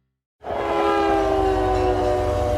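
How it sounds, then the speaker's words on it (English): Inside a boxcar in a train yard, a moving train kicks in abruptly as a loud, steady rumble with a sustained tonal hum that carries on without a break. "This is what it sounds like inside the boxcar."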